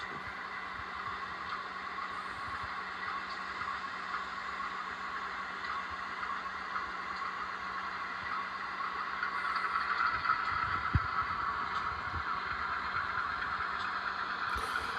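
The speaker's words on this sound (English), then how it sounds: "It's a neat engine. It sounds like really good when it throttles up too." A diesel engine sound from an HO scale model train hums steadily at a constant idle, with a faint rattle and a slight rise in loudness partway through as it throttles up.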